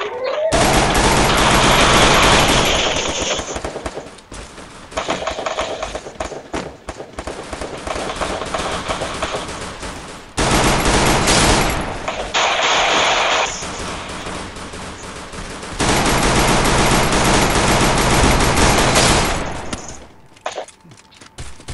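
Rapid bursts of shotgun fire in the Garena Free Fire game come in three long, loud volleys separated by brief gaps, dense and continuous like a fusillade.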